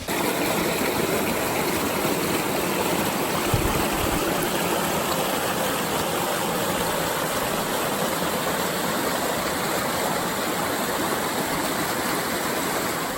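Waterfalls and a stream at Etiwanda Falls in Rancho Cucamonga produce a loud, continuous broadband rush of falling water that stays steady and close throughout.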